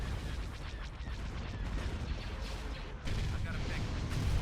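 Starship weapons fire and explosions in the Star Wars strategy game Thrawn's Revenge, a dense, continuous barrage of booming blasts and crackling impacts that stays loud throughout, with a heavier surge near the end.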